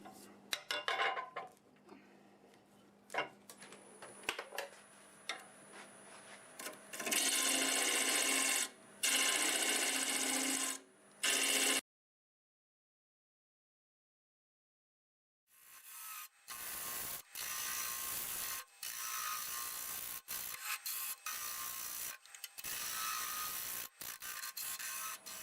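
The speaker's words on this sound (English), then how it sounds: "I'm just going to go ahead and get the hollowing tool, and let's just try to get rid of some material." Hollowing tool cutting end grain inside a twisted tangent stave turning on a wood lathe: loud, sustained scraping and rasping bursts broken by short pauses, with a long silent gap partway through, no talk.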